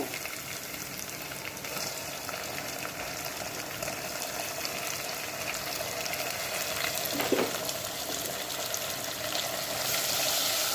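Chopped tomatoes frying with ginger-garlic paste in a pan, a steady close hiss and sizzle with faint crackles and a brief clink of stirring, no talk.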